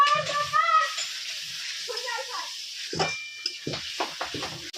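Spice paste frying and being stirred for a Bengali kokila fish tel jhal chorchori, a steady soft sizzle with intermittent clinks of a utensil, joined early on by tonal, cat-like cries.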